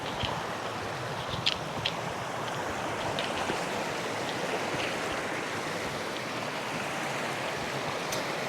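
Desert creek water flowing steadily over rocks, a continuous broadband rush with faint splashes and some wind, close and unbroken throughout with no voices.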